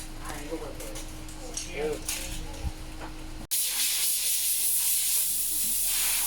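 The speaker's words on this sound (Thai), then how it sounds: "จัดการเป่าฝุ่นนะคะ แผงหม้อน้ำทำสะอาดให้นะคะ" Steady, loud blast of compressed air hissing continuously after a brief pause, blowing dust off a Toyota Revo pickup's radiator, preceded by some clinking and handling sounds.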